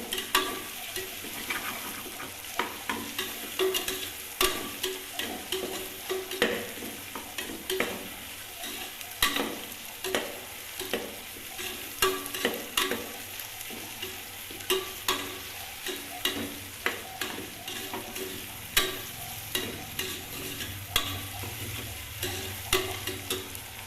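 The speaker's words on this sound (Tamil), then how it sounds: "இது நல்லா வந்து ஃப்ரை ஆகி வரட்டும்" Ingredients fry in a pan for millet egg biryani with a quiet, steady sizzle, broken by regular scrapes and taps of a stirring spoon, and no one speaks.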